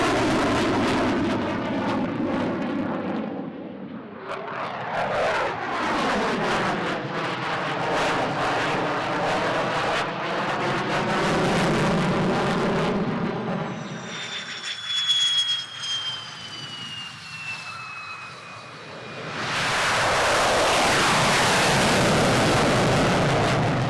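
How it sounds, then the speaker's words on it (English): An F-16 fighter jet takes off from a runway in England, a loud, sustained jet engine roar that rises and sweeps past, with a whining high tone, then returns to a full, close rumble. "F-16 at the end of the runway, shortly to go in about 20 seconds time"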